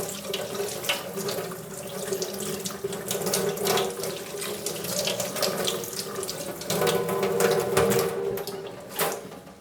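Tap water runs steadily into a sink as plastic Nintendo NES-101 top loader console parts are rinsed under it, a continuous close splashing rush with small shifts in flow and no talking.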